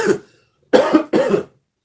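Three sharp coughs, one short cough followed by a brief pause and then two heavier coughs close together, loud and near with no talking.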